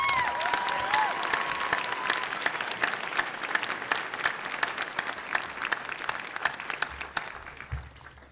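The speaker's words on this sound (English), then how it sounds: "Another round of applause, please." A graduation ceremony audience applauds steadily for several seconds, a dense, even patter of many hands heard from within the hall, tapering slightly at the end.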